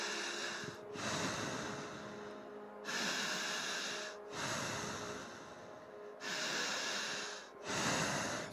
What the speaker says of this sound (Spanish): Respiramos solamente por la boca de esta manera.